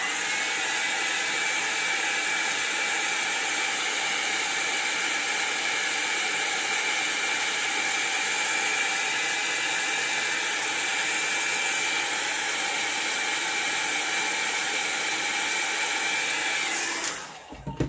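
A hair dryer drying alcohol ink on a card for handmade flower cards, a loud, steady, close whooshing blow that runs unbroken for about seventeen seconds before abruptly switching off.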